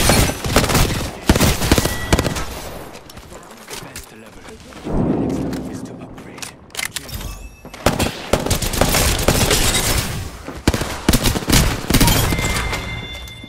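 Burst weapon fire in the Apex Legends battle royale game, rapid clusters of gunshots in repeated bursts with explosive thumps, loud and close, interleaved with game effects and some talk.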